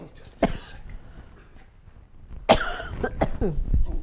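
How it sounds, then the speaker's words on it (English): A few harsh coughs close by, one near the start and a cluster later, separated by quiet breathing. "I know I keep coughing"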